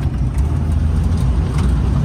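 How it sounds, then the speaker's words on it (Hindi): A Maruti Gypsy 4x4 on 31-inch tyres cruises in fourth gear at about 80, its engine and road noise making a steady, loud, continuous drone with no talk. "फोर्थ गियर डल गया भाई। जिप्सी अपनी जा रही है 80"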